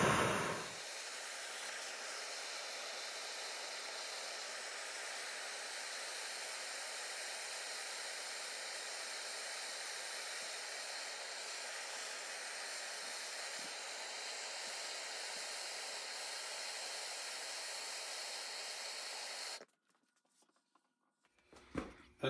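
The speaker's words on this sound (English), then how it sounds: "Then I heat it with a torch until I get it glowing red hot." Torch heating piston rings to red hot, a steady broadband roaring hiss that holds constant for about twenty seconds, then cuts off abruptly into near silence.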